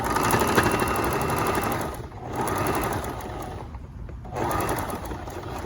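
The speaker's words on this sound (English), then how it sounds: "now we're going to just edge stitch. It's a little thick there, and this machine is rebelling" Sewing machine edge stitching through thick fabric, labouring as it runs in three long bursts separated by brief pauses.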